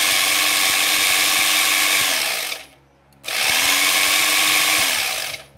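A Philco All in One food processor motor whirs loudly and steadily, cuts out briefly for about half a second, then starts up again at the same high, even whine.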